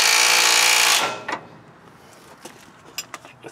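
An impact tool buzzes loudly for about a second tightening front end bolts on a 1976 GMC motorhome, then cuts out, leaving a few faint metallic clinks and taps nearby.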